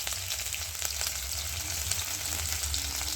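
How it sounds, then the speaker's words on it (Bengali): Chopped ginger sizzles in hot oil with panch phoron whole spices for a vegetarian cabbage curry, giving a steady, dense frying hiss close up with faint stirring scrapes and no talking. "এর মধ্যে আমি চুড়ে রাখা আদাটা দিয়ে দিলাম"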